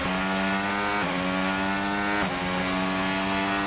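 F1 car engine at the Austria circuit in F1 25, a loud high-pitched racing whine held close and continuous, dipping briefly twice with quick gear shifts before climbing again.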